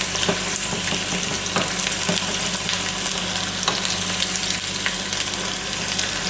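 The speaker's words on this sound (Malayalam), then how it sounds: "ഉള്ളി മൂക്കട്ടെ." Onions fry in hot coconut oil for an okra curry, giving a loud, dense, continuous crackling sizzle with faint stirring clicks and no pause.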